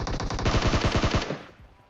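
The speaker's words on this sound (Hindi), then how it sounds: "भाई कूदते हुए बिल्कुल हवा से फायरिंग देते हैं।" Automatic gunfire in PUBG Mobile, a loud close burst of rapid evenly spaced shots lasting over a second, then fading off with a short tail.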